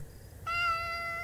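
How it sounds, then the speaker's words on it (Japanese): A black cat meows in a horror exploration video game set on a dark residential street at night, one clear sustained meow starting partway through over a low background drone. "黒猫が捨てられていますね。"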